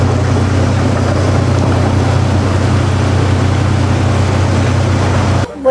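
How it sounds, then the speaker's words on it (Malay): An anchovy fishing boat returning to harbour at Pulau Pangkor drones with a steady, loud low engine hum that holds evenly before cutting off abruptly at the end. "itu ialah bot nelayan hasil tangkapan ikan bilis"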